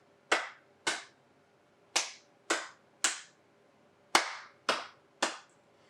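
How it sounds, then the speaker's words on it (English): Hands clap out a rhythm pattern: eight sharp, close, isolated claps in an uneven beat, grouped with short gaps, each ringing briefly before near silence. "we hear those claps happen over and over again"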